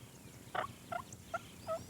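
A wild turkey gobbles in four short, rattling bursts spaced about evenly apart, clear against a quiet outdoor background with no talking.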